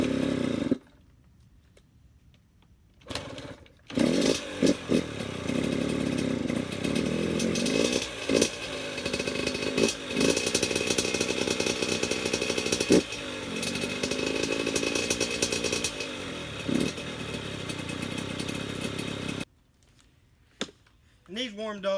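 A rebuilt Yamaha YZ85 two-stroke dirt bike engine running loud and close, rasping and revving unevenly for most of the clip after a few short bursts, then cutting out near the end.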